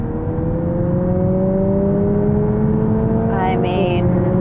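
A 2023 Lexus UX 250h hybrid in sport mode pulls hard away from a red light, its engine note rising steadily in pitch from inside the cabin, with a brief tire squeal near the end.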